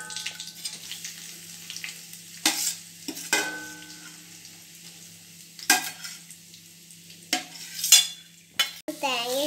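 Grated coconut being stirred in a hot pan for kuzhakkatta, with scattered scraping strokes of a spoon against the metal over a soft steady hum, close and fairly quiet, with no talking.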